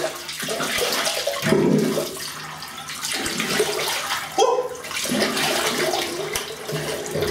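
Water runs loudly from a bathroom tap to rinse a Futur safety razor, a continuous rushing splash with brief changes as the razor passes through the stream and a short exclamation partway through.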